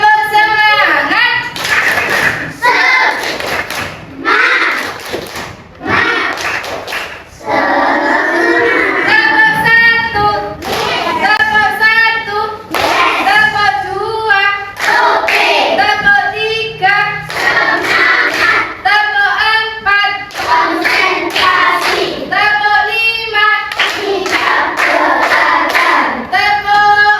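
Children perform the rhythmic 'tepuk semangat' spirit clap, loud sets of hand claps in a steady pattern mixed with chanted voices, running in bursts for the whole stretch.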